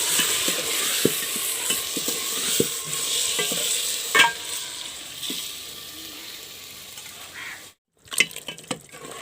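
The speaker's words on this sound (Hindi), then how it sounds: "अब चिकन को अच्छी तरह से भूनेंगे।" Chicken pieces frying and being stirred in a pan with browned onions, village-style home cooking, giving a steady close sizzle broken by scraping and knocking stir strokes, with a brief drop to near silence before the clatter resumes.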